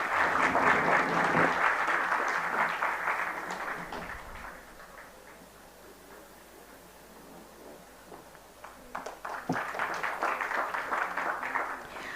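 An auditorium audience applauds at the inauguration of an international computing conference in New Delhi; dense clapping fades to a quieter patch midway, then swells again toward the end.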